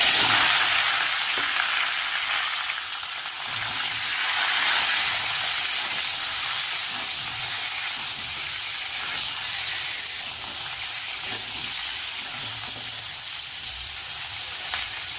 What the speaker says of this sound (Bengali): সবার প্রথমে ফুলকপি আর আলুটা ভেজে নেব।